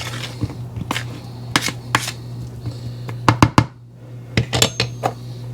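Dry ingredients being mixed in a bowl, a series of sharp scraping clicks and taps from the utensil against the bowl in irregular bunches over a steady low hum, close and fairly loud.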